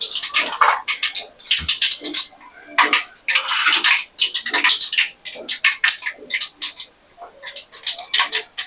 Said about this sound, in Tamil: கடுகு போட்டாச்சு. கடுகு பொரியணும்.